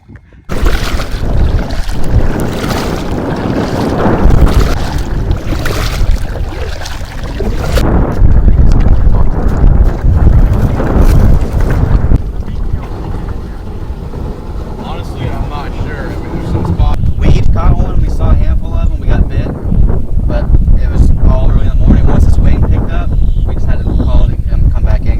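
Strong wind buffeting the microphone while out kayaking on a pond, a loud, roaring rumble that surges and eases in gusts, with a brief quieter stretch in the middle.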